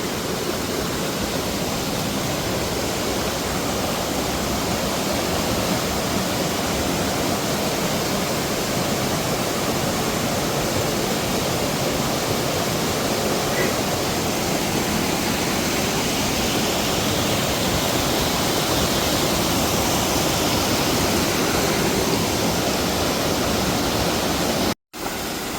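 The Malta Khola mountain stream rushes past at close range, a loud, unbroken roar of water that holds steady throughout before cutting off briefly near the end.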